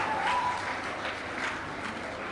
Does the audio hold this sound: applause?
yes